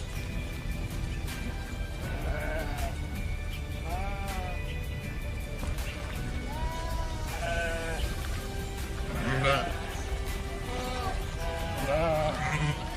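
Sheep being transported in large numbers bleat repeatedly at moderate distance, several overlapping calls rising and falling over a constant low rumble of machinery or ventilation.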